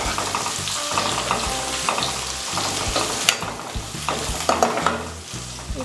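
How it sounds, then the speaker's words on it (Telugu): Onion pieces fry in a hot pan with a steady close sizzle, broken by frequent stirring scrapes and clinks of a spoon against the pan, loud and with no talking. "ఉల్లిపాయ ముక్కలు, ఇవన్నీ బాగా ఫ్రై చేసుకోవాలి."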